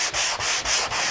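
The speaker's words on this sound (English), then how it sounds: "When I'm sanding, I'm also going just up to the tape." Hand sanding along a balsa wood model wing edge up to the masking tape, giving steady close scratchy strokes in four even back-and-forth passes with brief pauses between.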